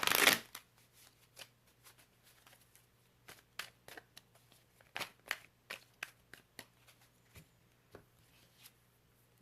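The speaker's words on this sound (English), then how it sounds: "I will definitely shuffle even more" Tarot cards being shuffled by hand close up, a quick riffle followed by soft, irregular flicks and slides of cards, quiet with no talking.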